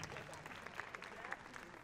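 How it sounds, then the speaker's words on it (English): Crowd applause at an awards ceremony, with steady clapping and a few louder claps, continuous for a couple of seconds, heard from within the audience. "Give yourselves a round of applause, please."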